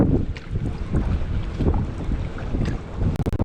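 Wind gusts over a lake and buffets the open deck of a jon boat during a bass fishing tournament, giving rough, fluttering rumbles that rise and fall, with a few sharp knocks near the end.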